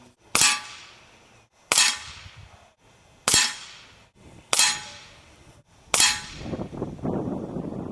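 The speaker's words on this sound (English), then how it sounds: "we just did a 5-shot group with the RWS Hobby Pellets" A Gamo Hunter 440 air rifle firing RWS Hobby pellets, five sharp cracking shots spaced about a second and a half apart, each snapping loud and near with a short metallic ring, ending in rustling handling noise.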